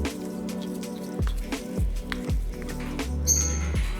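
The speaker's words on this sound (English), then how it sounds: "so let's give that a stir" Melted chocolate wafers stirred in a bowl, a series of soft wet scraping strokes with spoon-on-bowl knocks, close and fairly quiet, with a steady low hum underneath.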